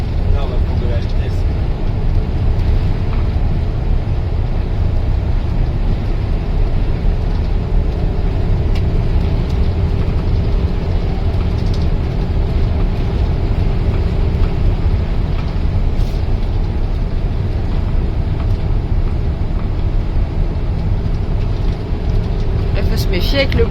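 A converted nomad bus drones steadily with a loud, constant low engine rumble and road noise as it picks up speed on a road, while voices talk over it throughout.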